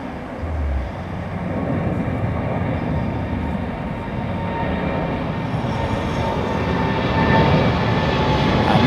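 DHL cargo jet at Heathrow Airport, a loud continuous engine roar that builds slightly and holds steady, close by, with no speech over it.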